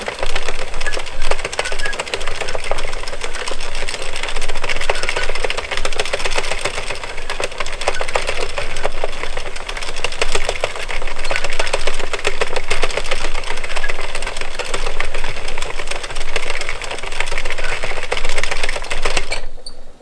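An Addi Express Kingsize knitting machine cranking out its first row of pink yarn for slippers: a steady, loud, continuous rattling clatter of plastic needles running evenly throughout.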